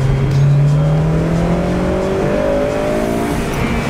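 A Honda Si car revs hard through its VTEC range, a loud rising engine note sweeping upward over a few seconds from inside or close by, with no talking.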